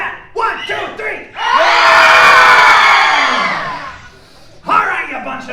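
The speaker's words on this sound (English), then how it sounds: "need to hear your best horror movie scream" A crowd at a theme-park horror event screams on cue, a loud sustained mass of high shrieks and yells that swells, holds for about three seconds and fades, with shouting voices before and after.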